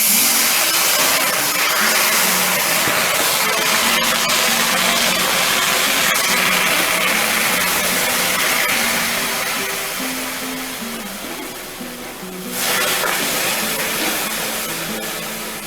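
Vegetable stock poured into a hot skillet at medium-high heat for oil-free cooking hisses and sputters loudly, a dense steamy roar that eases slightly near the end, with no talk.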